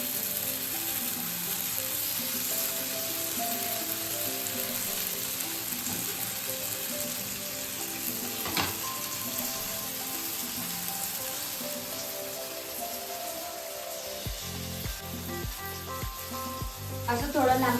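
Paneer tikka pieces with onion, capsicum and tomato sizzle steadily on a hot tawa, a continuous close frying hiss with a few clinks near the end.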